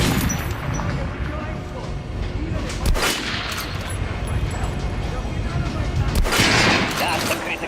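Weapons fire at a shooting range in Metro Last Light, sustained loud gunfire and impacts with heavy sharp bangs near three and six seconds, under and between game voices.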